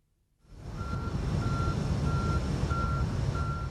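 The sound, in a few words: sulfur tanker truck reversing with beeps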